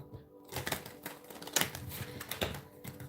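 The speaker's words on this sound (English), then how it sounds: "I'm trying to shuffle these cards again." Rapid riffling and soft clattering bursts of cards being shuffled, close up, in quick flurries with brief pauses between them.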